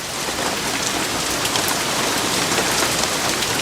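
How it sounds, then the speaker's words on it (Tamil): Heavy rain pours down steadily and loudly, a dense unbroken hiss of drops drumming on surfaces with no pause throughout. "ச்சே, இந்த மழை வேற எப்போ விடுன்னு தெரியலையே."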